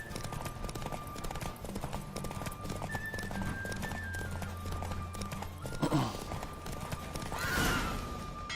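Steady clip-clop of galloping hooves with a horse's whinny near the end, over a busy background of music and effects in the video game Witcher 3.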